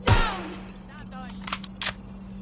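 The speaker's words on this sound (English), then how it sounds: "Gunfire, over here!" Gunfire in Watch Dogs Legion opens with one loud close shot, followed by fainter distant shots and shouting voices.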